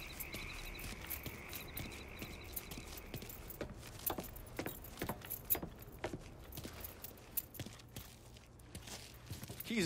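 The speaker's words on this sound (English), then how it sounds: "pick up the keys." Keys jangle and clink with a quick metallic rattle in Mafia III, repeated light jingles over a humid ambient background of croaking frogs and insects.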